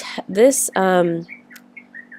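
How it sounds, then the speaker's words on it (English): Morning birdsong outdoors, a few bright chirps and short calls heard close by, followed by fainter scattered tweets, with a voice speaking alongside. "you hear the birds chirping."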